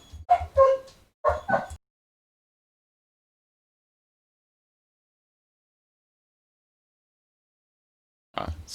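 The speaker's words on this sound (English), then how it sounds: "my dog started barking about a second before we completed that" A real dog barks in a few short bursts near the start, then falls silent, with one more yip right at the end; the barks are close and fairly loud, and no one speaks.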